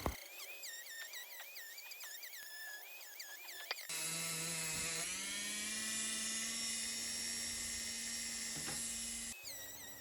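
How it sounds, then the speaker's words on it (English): High whining Dremel rotary tool carving a wooden slingshot fork, first in short revving bursts and pitch swoops, then one long sustained loud grind that cuts off near the end. "I was doing all the fork with the Dremel"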